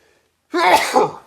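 A single sharp, close sneeze bursts out after a short silence, breathy and forceful, trailing off with a slight second push.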